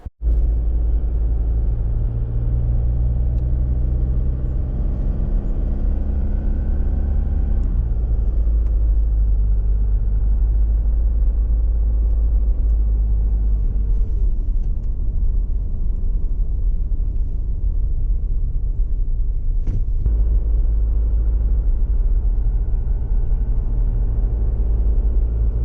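An Isuzu vehicle fitted with a REDARC Tow-Pro Elite brake controller drives along towing a camper trailer, giving a steady, loud low engine and road rumble that continues the whole time with no talk.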